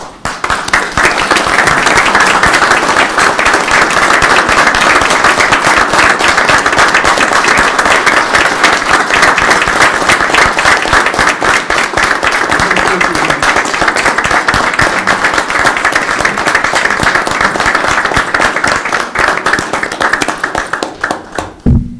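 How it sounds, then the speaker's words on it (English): Sustained audience applause at a city council meeting, loud, dense clapping filling the room steadily for over twenty seconds before ending abruptly. "Won't you please rise and offer them your applause for a job well done?"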